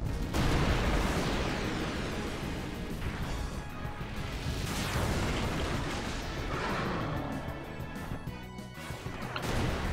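Ifrit's Hellfire summon attack in Final Fantasy X, a dense, loud barrage of crashing, booming impacts and roaring fiery blasts that keeps going without a break for the whole stretch.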